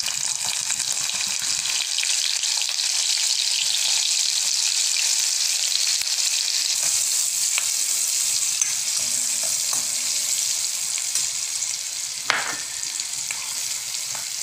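Finely chopped onions fry in hot oil with popping mustard seeds, giving a loud, continuous hiss and crackle for the whole stretch. Occasional soft clinks rise above it.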